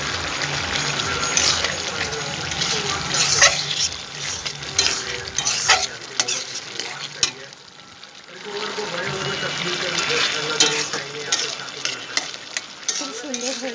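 Mutton ghugni cooking over a high gas flame, with steady sizzling and the scrape of stirring throughout. The sound dips briefly in the middle and then picks up again, with a voice talking intermittently over it.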